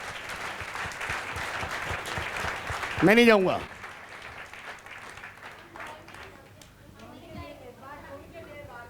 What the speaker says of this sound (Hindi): समझ में आ गई हो तो ताली बजा के प्रभु को महिमा दे दो।